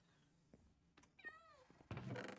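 Cat meowing in Minecraft, a single clear, rising-then-falling meow heard faintly at a distance, surrounded by a few soft thuds and clicks and a burst of noise at the end.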